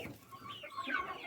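Faint, soft clucks and murmurs come from an Easter Egger chicken in a quiet coop at night, low-level and close with no talk.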